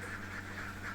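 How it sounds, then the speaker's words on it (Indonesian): Solo laying ducks quack in a dry pen, a dense, steady chorus of overlapping nasal calls, moderately close and continuous, over a low constant hum. "Bebek kami ini kan bebek Solo ya"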